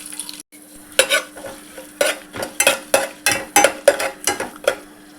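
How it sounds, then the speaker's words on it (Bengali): Whole garam masala spices stirred in hot oil in a pan for a chicken stew curry: a steady sizzle with about a dozen distinct scraping stir strokes, close and clear, no voices. "পাত্র গরম হয়ে যেতেই আমি দিয়ে দিলাম গরম মশলাগুলো, এগুলোকে একটু হালকা করে নেড়ে চেড়ে নেবো।"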